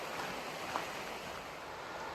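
Laurel Creek runs beside the Appalachian Trail and the Creeper Trail in southern Virginia, a steady, soft broadband rush of flowing water with no voices.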